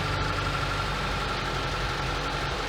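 A ZAZ Sens car engine, started cold, idles with a steady, low, even hum and faint vibration, running alone without any talk.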